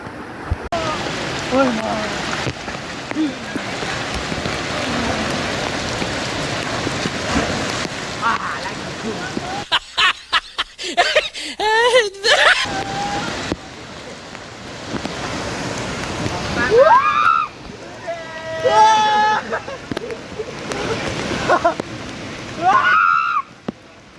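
Steady rain pours on people bathing in it at the Jatashankar Mahadev temple in Junagadh, a dense hiss through most of the stretch, with excited voices and calls breaking in near the end.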